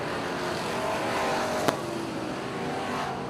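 Race cars roar around a dirt track during a feature race at Fulton, a dense continuous engine drone with a sharp click partway through, loud and steady throughout.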